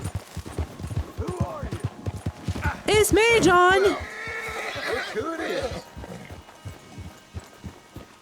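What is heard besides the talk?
horse hooves in video game Red Dead Redemption 2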